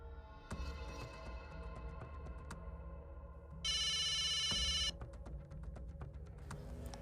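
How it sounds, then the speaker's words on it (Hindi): A telephone rings once in a sustained electronic trill over a steady low hum with scattered clicks before and after. "फिर से फोन।"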